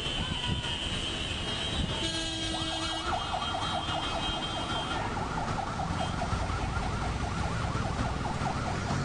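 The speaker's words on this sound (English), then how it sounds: "That's the ambulance carrying the mortal remains of actor Amrish" An ambulance carrying the remains of actor Amrish sounds its siren, a wailing, rapidly warbling tone rising over road and crowd noise after a couple of seconds and continuing loudly to the end.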